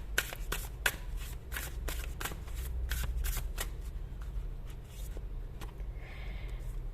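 Tarot cards being shuffled by hand, a run of quick crisp riffling flicks and snaps in bursts that slow and thin out toward the end, close and clear with no talking.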